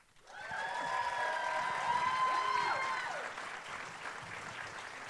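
Festival crowd clapping for a TV panel at a Q&A, a soft, fairly distant wash of applause that swells in after a quiet start and then eases slightly, with a few tonal lines drifting over it.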